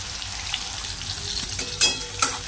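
Onion hits hot oil with cumin seeds in a tempering, giving a steady close sizzle broken by a few sharp crackling pops and spatters, with no talking.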